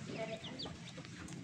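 Hens and their young chicks of an imported rooster's flock clucking softly and continuously close by, with brief higher chirps and light background voices.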